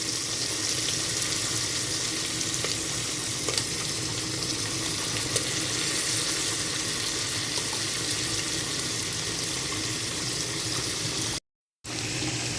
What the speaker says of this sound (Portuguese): Eu vou colocar aqui umas 4 colheres também desse temperinho, pra ficar bem temperadinho e a gente refogar também.